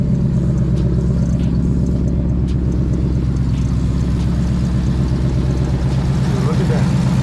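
The engine of a Ford Mustang drift car runs at a steady idle with a low, even rumble and a faint clatter, close and loud throughout.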